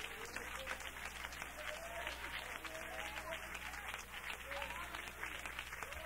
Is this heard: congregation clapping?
yes